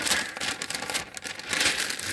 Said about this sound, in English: stick it in the middle and crumple it all up, twist it, mess around with it like that